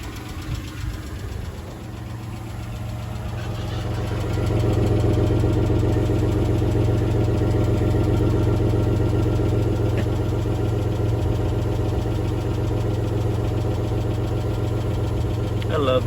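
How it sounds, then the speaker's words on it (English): An SUV engine idles and runs steadily with a low, knocking rumble, rising slightly in level partway through and holding close and constant to the end. "I love the sound of this engine."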